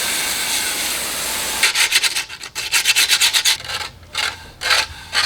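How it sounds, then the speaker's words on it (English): A cast concrete bowl being wet sanded outdoors makes rapid rhythmic scratchy rubbing strokes, close and fairly loud, with a steady hiss leading into the bursts and brief pauses between passes. "just did some wet sanding outside"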